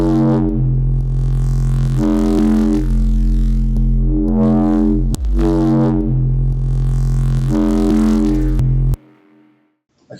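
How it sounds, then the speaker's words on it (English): A drum and bass track's heavy mid bass plays in loud sustained bursts with rhythmic hits, carrying faint clicking artifacts through the low end before cutting out near the end. "we can hear there's a lot of clicking going on in there"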